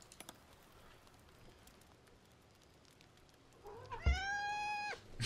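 A pet cat lets out a loud, drawn-out meow near the end, close and clear over faint background noise.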